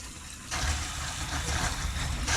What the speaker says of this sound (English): Sounds like water's coming.